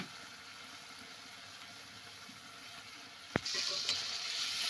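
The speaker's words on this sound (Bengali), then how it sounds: "বাটির গায়ে লেগে আছে, একটু ধুয়ে জল দিয়ে দেবো।" Water rinsed from a bowl into a pan of ground masala and tomato hits with a sudden splash, then a louder, brighter hissing sizzle continues after a low, quiet background.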